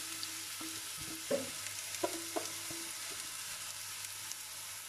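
Hot oil sizzles steadily as vegetables fry in a pan for a vegetable pâté, a close, even hiss with a few light stirring knocks and clinks, no voices.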